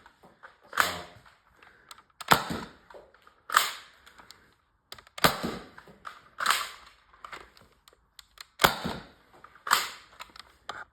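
A Nerf dart blaster toy gun fires about eight times, each a sharp close snap-and-clack spaced roughly a second or two apart, with quiet clicks between shots.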